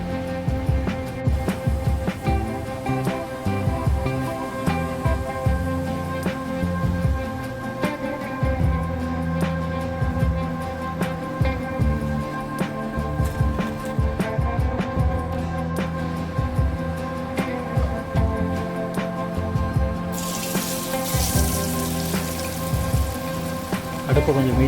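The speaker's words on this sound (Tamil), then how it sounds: "பாருங்க நிறைய நல்லா பொரிஞ்சு வருது" Cauliflower pieces for cauliflower chilli deep-frying in oil over a medium flame, a steady crackling bubble that runs the whole time and swells louder near the end, with no talking.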